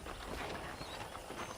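Horse hooves clip-clop in the Red Dead Redemption video game, a fairly faint, steady patter blended into a dense wash of ambient noise, with no talk.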